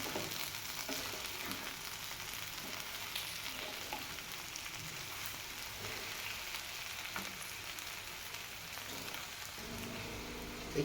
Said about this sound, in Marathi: आता आपण एक 5 मिनटं हिला कमी गॅसवर झाकण ठेवून शिजू देऊ.